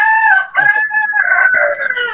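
A rooster crows loudly and close by, one drawn-out cock-a-doodle-doo with a few clucking notes, standing alone with no speech.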